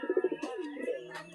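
A pair of silver-coloured pigeons in a cage coo close by, with a short run of soft pulsing throaty notes followed by a rolling, warbling coo.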